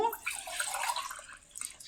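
Banana water is poured from a mug, a splashing trickle of liquid that is fairly close and settles off toward the end.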